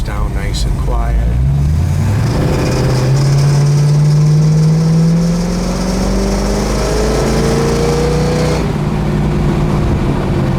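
The V8 engine of a 1969 Plymouth Roadrunner runs loud and close, a heavy drone whose pitch climbs slowly and steadily, then eases off near the end.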